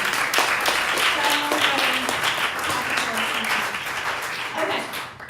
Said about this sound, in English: let's give a round of applause to all the amazing performers